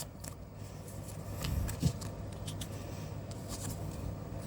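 A deck of tarot cards is shuffled by hand close up: soft continuous shuffling with one brief, sharper riffle near the middle. Nobody speaks.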